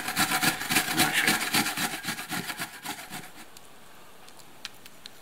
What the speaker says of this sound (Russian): на крупной терочке, то есть ячейки крупные, натирать будем яблочко наше